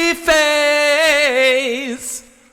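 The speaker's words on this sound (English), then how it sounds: "Here's my track the way I recorded it, just raw with a little reverb" Raw solo singing voice recorded with a touch of reverb, a sustained melodic phrase with wavering vibrato that holds close and steady before tailing off softly into a brief decay.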